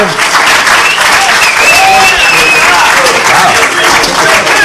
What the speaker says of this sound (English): what exactly are you applauding?